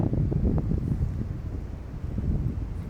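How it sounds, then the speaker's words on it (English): Steady wind blowing across a rocket launch site where fuel is being purged from the lines, a constant low rushing roar buffeting the microphone with no voices. "Come on, wind, blow it away."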